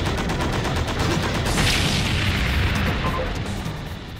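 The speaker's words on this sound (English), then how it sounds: "New to this side is more machine guns. They'll strafe across the screen in a fairly regular pattern" Sustained machine-gun fire from a video game's volcanic stronghold stage forms a dense, continuous rattling barrage that stays loud throughout and eases off slightly near the end.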